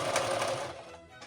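A sewing machine stitches in a zipper, a fast buzzing run of stitches close by that slows and trails off near the end.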